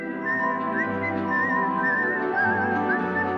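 A person whistles a theme, a clear, steady melody with short pitch slides between notes, heard alone over a soft background.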